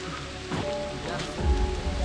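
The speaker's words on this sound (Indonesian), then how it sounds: "Hujan awet ini." Steady rain pattering on a mountain trail near the summit of Mount Malabar, a soft continuous wash with a few brief low bumps and faint voices in the background.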